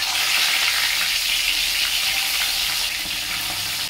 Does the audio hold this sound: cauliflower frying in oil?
yes